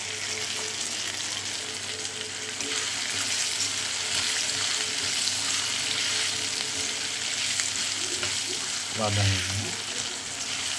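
Onions sizzle steadily in a hot pan, a soft continuous frying hiss, with a brief clatter of stirring near the end.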